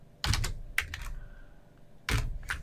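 Typing on a computer keyboard at close range: a few short clusters of clicky keystrokes with brief pauses between them.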